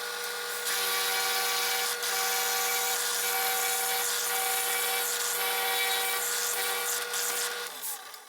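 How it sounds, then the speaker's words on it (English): A drill press bores into wood with a Forstner bit while making a musky fishing lure, a steady grinding whine that runs for several seconds before winding down at the end, with no voices. "I'm going to drill all the way to the midline"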